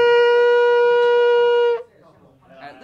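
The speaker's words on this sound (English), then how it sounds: "So you have to know that a 4-second tekiah sounds like this." A shofar sounds a single sustained tekiah, one steady loud tone held for almost two seconds before it breaks off, followed by quiet room noise.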